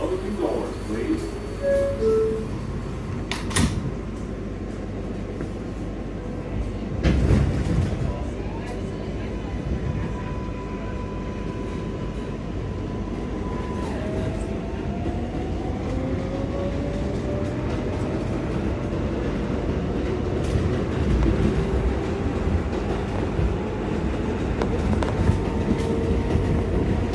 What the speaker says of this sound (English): This is the Flusing Main Street bound 7th local train